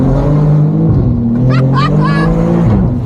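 A tuned BMW M2 with a heavily modified, boosted engine revs loudly and steadily up close, its pitch rising and settling, while people talk excitedly over it.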